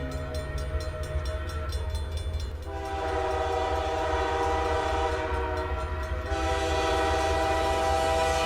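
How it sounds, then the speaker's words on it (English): A loud, sustained train whistle blows in two long stretches over the steady rumble and rattle of a passing train in a video game. "When the train whistle blew, I jumped."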